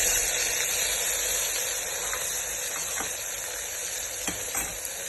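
Ginger, chili and garlic paste frying in a pan for a Gujarati meal, a steady close sizzle with a few faint stirring clicks, no talk.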